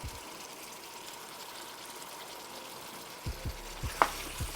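Flour stirred into a sloppy joe mixture of beef broth in a pan, a soft steady sizzle with a few light scraping knocks from the spoon toward the end, close by.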